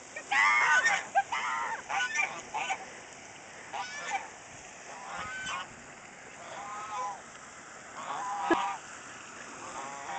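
Near water, a goose honks repeatedly in bursts spread across the clip, loudest at the start and again near the end, with quieter gaps and faint background noise between calls.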